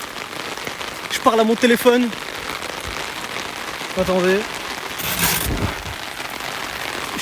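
Rain falling steadily on the ground and surfaces around a person walking outside in the rain, a constant close hiss. Someone speaks over it, and a short burst of louder patter cuts in.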